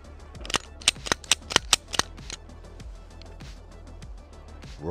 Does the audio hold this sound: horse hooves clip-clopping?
no